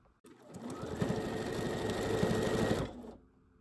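A sewing machine runs steadily, stitching a fabric ruffle for a Halloween craft project, with a rapid mechanical whir lasting a few seconds before stopping, close and clear with no talk.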